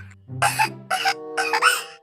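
A child coughs in a few short, separate bursts, each sharp and voiced, spaced across a couple of seconds and heard close with a small room sound around them.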